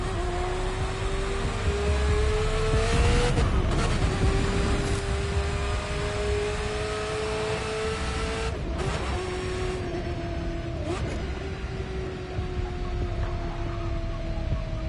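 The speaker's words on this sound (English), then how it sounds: "The backfire you get from it, which is when you let off the gas, it just sounds like it's broken in a way." Race car engine in The Crew 2, a heavily modified performance vehicle, droning steadily at high revs with brief drops in pitch and sharp crackling bursts on lifting off the throttle, loud and close with no talk.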